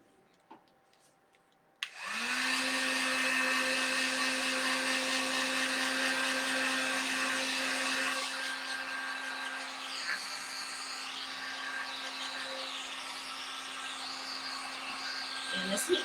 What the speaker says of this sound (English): And this heat gun does get a little hot